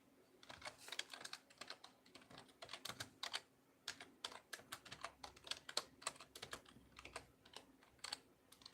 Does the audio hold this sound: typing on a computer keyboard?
yes